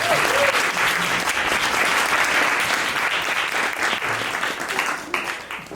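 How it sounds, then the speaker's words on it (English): An audience at a public lecture gives a speaker a warm round of applause, a dense, sustained clapping that holds steady for several seconds before beginning to thin out. "So if you give her a warm round of applause"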